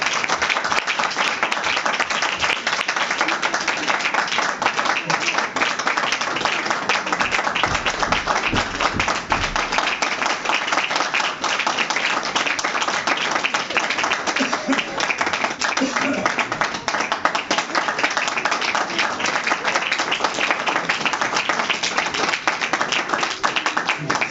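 Applause from a church congregation welcoming a guest at a church anniversary service, sustained dense clapping with sharp hand taps for over twenty seconds, loud and close.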